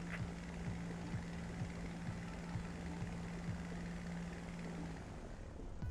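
Faint, distant propeller aircraft drone in the Flying Circus flight game, a steady engine hum with a low regular pulse as the plane passes.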